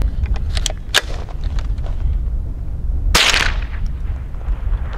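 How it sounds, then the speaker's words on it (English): A Henry AR-7 survival rifle fires CCI rounds outdoors: a few sharp, distinct cracks spaced apart, one near the start and a louder one about two seconds later, over steady background noise. "and we'll start shooting. All right, 3 rounds of CCI."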